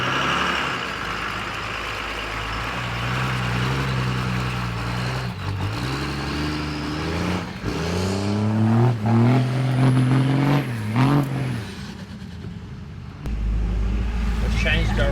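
A Cummins-engined Nissan Patrol 4x4 climbs a ditch, its diesel engine droning loudly and rising in pitch as it labours, with the revs surging and falling under a voice.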